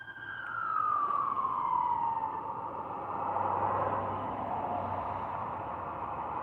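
A wailing emergency siren sweeps down in pitch and holds steady, fairly near and continuous throughout, with a low engine rumble beneath; the vehicle is identified as a police car, though a fire truck is also mentioned nearby.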